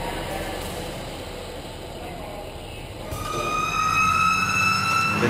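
A fire engine siren wails steadily as the engine departs on a call, rising in prominence partway through over a rumbling engine and general street noise.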